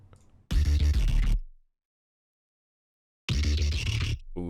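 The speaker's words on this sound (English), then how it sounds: "Got vocodecs, which is adding some really nice textures to the bass." Synth bass drenched in a Vocodex vocoder effect for an electronic dance drop remix, playing two loud, dense bursts separated by a stretch of silence.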